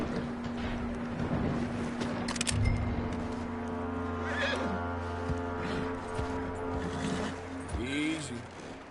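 A horse neighs in the Western video game Red Dead Redemption 2, its whinny rising over a dense game soundscape with steady hum and ambient noise, while a voice talks underneath.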